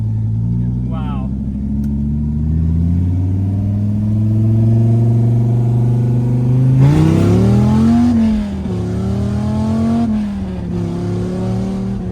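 A V10 engine from a Viper, swapped into a Mazda RX-7, idles with its exhaust cutouts open, then revs hard in several rising and falling surges. The loud, deep rumble sits close and up front, while people talk faintly beneath it.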